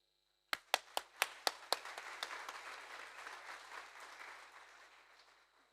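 An awards-ceremony audience claps for Auckland Council, starting with a few sharp, separate claps that thicken into a thin, half-hearted patter before fading.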